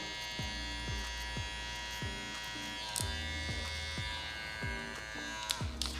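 Electric hair clippers with a 1 guard buzz steadily while cutting hair, with repeated short strokes as the blade passes through the hair in a close, quiet, regular rhythm.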